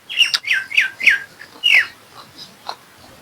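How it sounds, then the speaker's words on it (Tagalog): Several bright bird chirps in quick succession, then a few softer calls trailing off, fairly close with light background hiss, in Japan. "Dahil mga ibon dito."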